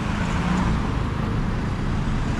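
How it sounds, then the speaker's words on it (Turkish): Continuous street traffic in Vientiane, Laos, rumbles close by, a steady wash of car engines and tire noise with no pauses. "Arabalar geçiyor."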